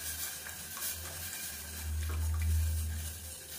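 Whole-wheat flour batter is stirred steadily in a pot over medium heat while cooking into porridge, giving a soft, continuous scraping and sloshing that swells a little toward the end.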